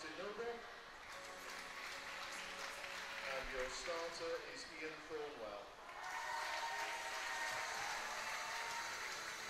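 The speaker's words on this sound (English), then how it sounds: "big cheer for some of them" A crowd at a swimming nationals gala cheers and applauds as officials are introduced, a broad, sustained roar with clapping that swells louder partway through, with a commentator talking over it.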